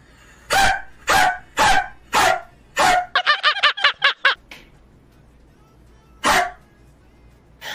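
A person imitates a dog, giving five loud separate woofs, then a quick run of short yips, and one more bark after a pause, close and clear over a quiet background.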